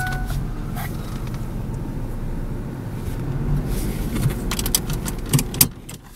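A 1999 Ford Mustang engine runs at a steady idle with a low rumble throughout, and a few brief clicks and rattles near the end.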